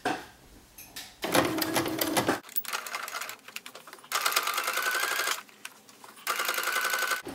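A sewing machine stitches a curved seam in several separate runs, each a close, fast mechanical rattle lasting about a second, split by short quiet stops as the fabric is turned.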